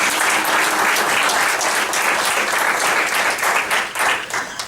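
A seated audience at a school association gathering gives a dense, steady round of applause, full and continuous before tapering slightly at the end.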